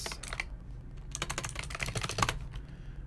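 Rapid, steady computer keyboard typing of C# code, close and clear, with bursts of keystrokes and brief pauses, no voices.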